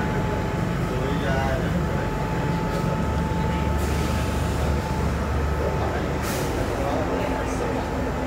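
Low rumbling of a Hong Kong subway train fills the background with a steady hum, while people talk faintly nearby.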